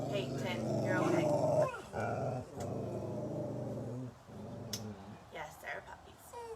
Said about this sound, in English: Yes, they're puppies.